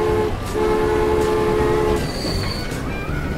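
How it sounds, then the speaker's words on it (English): Train arriving at a station in the video game Transport Fever 2, a steady rolling rumble with sustained horn-like tones and a brief higher squeal near the end, continuous and fairly loud. "train 2, let's speed things up a little bit, should come into the station and just use the station to turn around"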